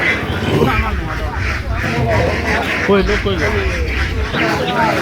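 Ducks quack repeatedly at a busy duck market in Beni Hat, mixed into a crowded hubbub of bargaining voices and background chatter.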